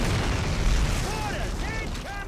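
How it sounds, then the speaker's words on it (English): Mortar fire in Call of Duty 1 on a World War II street against German forces: a dense, rumbling wash of blasts fills the clip, with faint shouting voices in the middle. "Mortars! Coming!"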